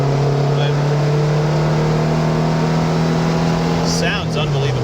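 A 1967 Volkswagen Beetle engine drones steadily and close while the car drives, holding an even low hum for the whole stretch, with a brief higher rattle near the end.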